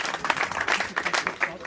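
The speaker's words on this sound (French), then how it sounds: "vous pouvez les applaudir" An audience at a Les Républicains political speech in Brumath applauds local deputies, with dense, fairly close clapping from a crowd, uneven in intensity, mixed with voices.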